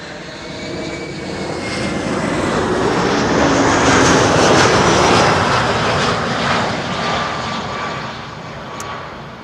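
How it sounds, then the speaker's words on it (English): An EasyJet Airbus A319 lands at Schiphol Airport, its jet engines building from a distant roar to a loud close rumble and whine that peaks midway, then slowly fades. "EasyJet flight 27886 arriving from Alicante"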